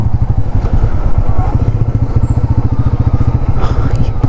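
A motorcycle engine runs at a steady, throbbing pulse close by during a long-distance highway road trip from Mumbai to Tamil Nadu.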